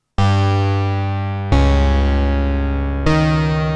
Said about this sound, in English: that's a dual patch with two different tones